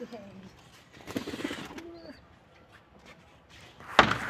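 Soft cooing of kept pigeons and bird calls in a quiet coop, with a brief louder knock or flutter near the end.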